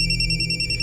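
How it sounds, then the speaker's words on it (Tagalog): A cellphone rings with a steady electronic ringtone, loud and continuous throughout the short moment, with no voices over it. "May cellphone nga di bagting."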